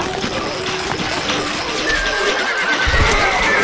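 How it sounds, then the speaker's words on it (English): A horse gallops and neighs in the medieval strategy game Stronghold Crusader, giving a clear whinny and rapid clip-clopping hooves, close and prominent, briefly overlapping with speech. "الفرس تعدو."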